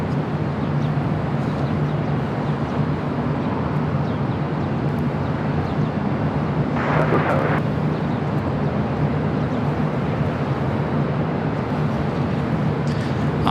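Qatar Airways Airbus A350-1000 taxiing on taxiway Bravo at LAX, a steady, even roar of jet engines holding throughout, with a short brighter whoosh around the middle and no voices.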